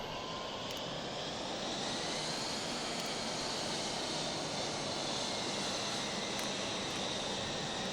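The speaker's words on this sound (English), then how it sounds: "now throttle's in idle, and the engine should come up" Mirage F1 jet engine in the DCS flight simulator, a steady, loud broadband roar that holds constant throughout with no talking over it.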